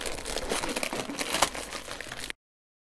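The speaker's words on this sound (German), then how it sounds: "jetzt gehe ich auch her und entferne die Folie" Thin plastic film peeled and crinkled off a wooden brick-shaped New Year winter decoration, a steady close rustling and crackling that runs for about two seconds, then stops abruptly.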